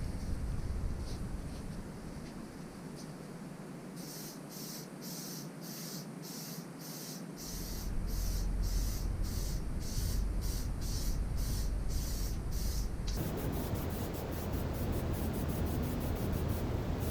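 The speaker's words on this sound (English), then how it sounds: "now I'm going to just start giving them a bit of a clear lacquer" Clear lacquer hisses from an aerosol spray can over a bare metal fuel tank in a home garage, one long steady spray with a pulsing rattle of short bursts that turns into a denser continuous hiss near the end, close and alone.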